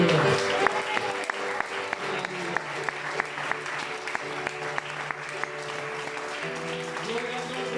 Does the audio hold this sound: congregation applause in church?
yes